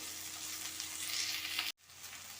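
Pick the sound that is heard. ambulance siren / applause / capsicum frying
capsicum frying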